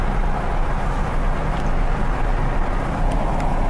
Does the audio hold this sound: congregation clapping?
no